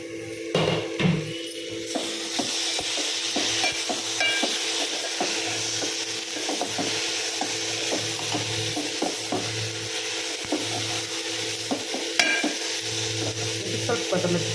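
Horse gram tossed into a sambar tempering with grated coconut sizzles steadily in a hot pan, with repeated scraping stir strokes and light utensil clinks running throughout, close and alone.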